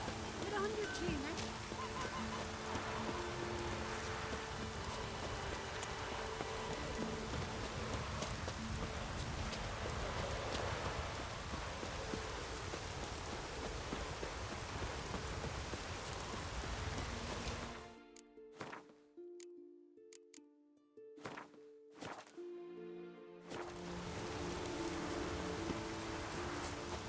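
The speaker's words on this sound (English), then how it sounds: "Oh, it's raining." Steady hiss of rain in The Witcher 3 running throughout, briefly broken by a few seconds of intermittent clicks and gaps before the downpour resumes.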